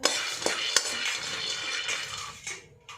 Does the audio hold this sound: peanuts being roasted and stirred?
yes